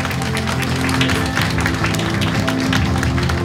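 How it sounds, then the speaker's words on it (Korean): An audience at a Buddhist press and culture award ceremony claps, giving a dense, sustained wash of applause that fills the hall at a steady loudness throughout. "여러분 뜨거운 박수 부탁드립니다"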